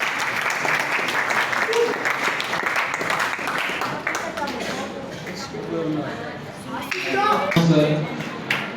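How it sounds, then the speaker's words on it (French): An audience at a political party visit in Bunia applauds in scattered, uneven clapping, with a voice speaking over and between the claps. "Sous vos applaudissements."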